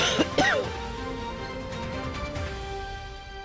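A person on a podcast coughs and clears their throat in a few rough bursts at the very start, close to the mic, before the room settles into a quiet hum.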